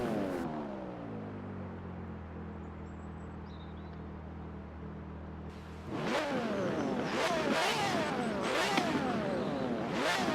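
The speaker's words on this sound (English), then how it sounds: "this engine comes from the Ferrari F50 GT" In Forza Horizon 4, a Ferrari F50 GT V12 racing engine idles loudly with a steady harmonic drone, then after a sharp cut surges into repeated hard revs rising and falling, close and alone without speech.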